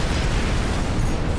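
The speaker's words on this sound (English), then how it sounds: "I'm not used to using my shoulder cannons yet" Shoulder cannon firing in Armored Core 6 makes a loud, dense, sustained explosive rumble that fills the short moment with heavy low-end blast noise.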